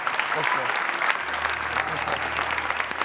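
Audience applause for a singer on a stage show, a steady wash of clapping from a live crowd that holds at an even level throughout, with a low hum running beneath it.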